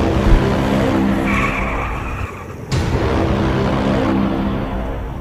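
A front-wheel-drive car drifts, its tires screeching and skidding loudly alongside the engine, with a short break midway before the squeal returns.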